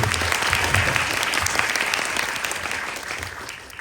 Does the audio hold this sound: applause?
yes